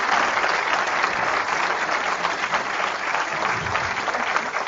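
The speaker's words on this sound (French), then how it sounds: "je pense qu'on peut les applaudir" An audience applauds three speakers at a conference talk, sustained applause filling the room steadily and fairly loud from start to finish.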